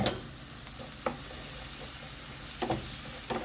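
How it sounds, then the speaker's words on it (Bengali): Dried fish sizzles steadily in hot mustard oil with garlic, a close, even crackle broken by a few sharp knocks and scrapes of stirring. "তেলের মধ্যে শুটকিটা দিলে সুন্দর ভাজা হয়"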